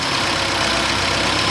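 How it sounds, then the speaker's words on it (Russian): A car engine idles with a steady dense rumble that now and then shudders unevenly, heard close up and alone. "двигатель его нет-нет протряхивает"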